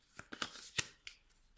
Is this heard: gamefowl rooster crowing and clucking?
no